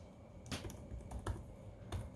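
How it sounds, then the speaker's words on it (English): Keys on a new Apple MacBook Pro 16-inch keyboard are pressed in a few soft, separate taps about two-thirds of a second apart, close and quiet against a light background hum. "First time I'm typing on the new keyboard."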